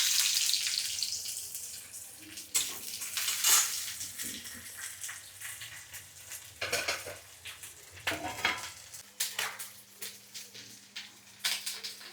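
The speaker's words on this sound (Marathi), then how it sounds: "यात थोड्याशा तेलामध्ये कांदा परतून घेते" Onion sautéing in a little oil in a pot for chicken biryani, with a soft continuous sizzle broken by clattering metal utensil scrapes and clinks against the pot, close and fairly loud throughout.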